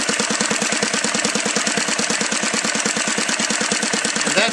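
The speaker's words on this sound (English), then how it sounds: "That's just what a Saito, a big four-stroke on ignition." A Saito 180 four-stroke model airplane engine converted to spark ignition runs steadily near 1100 rpm, a loud, even, rapid exhaust beat with a rough metallic buzz, continuous and alone throughout.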